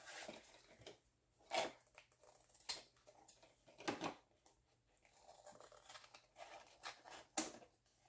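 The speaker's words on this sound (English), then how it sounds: "I'm just trimming the edges off." Scissors trim the edges off a sheet of paper, giving a handful of quiet, separated snips and short rustles at close range, with pauses between the cuts.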